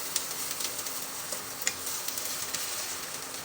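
Eggplant omelette (tortang talong) frying in a pan just after being flipped, a steady close broadband sizzle with occasional small pops and crackles, no talking.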